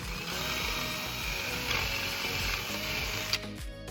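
A drill bores out a hole while a lopper is being made into a hand shovel: a steady mechanical whir and chatter that runs on, then stops near the end with a small clunk.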